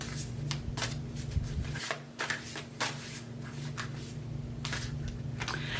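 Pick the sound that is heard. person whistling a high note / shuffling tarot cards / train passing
shuffling tarot cards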